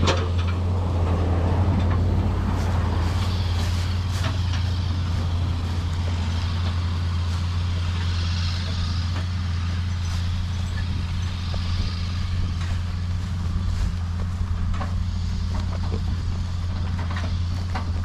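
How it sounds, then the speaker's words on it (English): A car approaches and passes on a rural farm road, a steady vehicle rumble rising and fading over constant low engine drone, with faint background noise and no talk. "Car's coming. We're just gonna have to wait."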